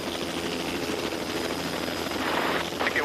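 Rescue helicopter hovering during a cliff rescue, a loud continuous rotor and engine roar filling the whole span with a steady beating drone.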